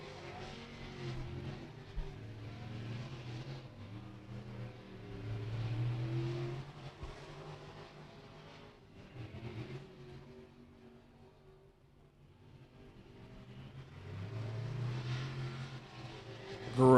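A race car on a qualifying lap at Beckley Motor Speedway during the Cowboy Classic, its engine a faint, distant droning note that swells and fades as it circles the track, with no speech.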